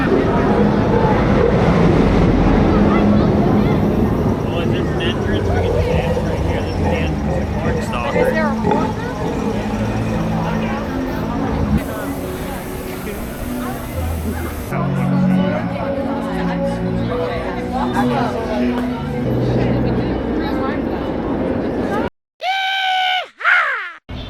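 Millennium Force roller coaster at Cedar Point during a night ride, a loud continuous roar of wind and rushing track noise with riders shouting and screaming throughout, cutting off abruptly near the end.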